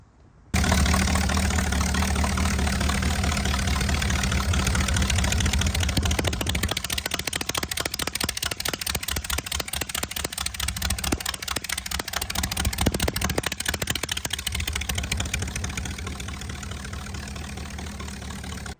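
A project vehicle's engine runs and idles steadily up close, a loud continuous drone that settles into a rapid, rhythmic lumpy chugging partway through and holds to the end.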